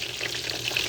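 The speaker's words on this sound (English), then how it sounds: "You can hear that sizzle." Breaded pork tenderloin frying in a pan gives off a steady, close, bright sizzle with crackling pops throughout.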